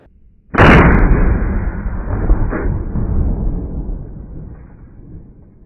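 A single loud shotgun blast from firing a Longbeard TSS turkey load at a target outdoors, a sharp crack followed by a long rolling echo that slowly fades over several seconds.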